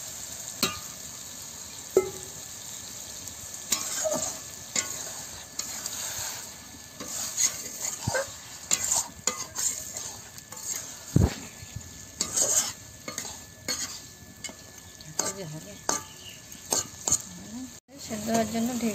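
Chicken curry sizzles in a pan after water is added, while a spatula stirs and scrapes against the metal in irregular clinks and knocks. The sizzle stays steady underneath and no one speaks.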